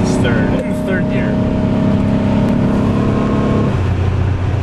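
Chrysler LeBaron fitted with a new intake, held in third gear under hard throttle, its engine drone steady and loud inside the car before the pitch drops off near the end, with people talking over it.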